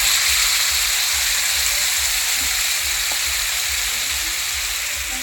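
Chicken and spice paste fry in a kadai over a gas flame, giving a continuous, even sizzling hiss with no voices.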